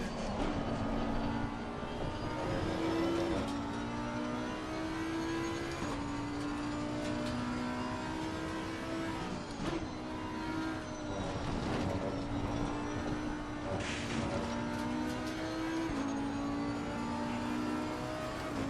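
A GT race car engine in Assetto Corsa Competizione drones loudly and steadily, pitch rising and dropping through upshifts and downshifts, with no talk over it.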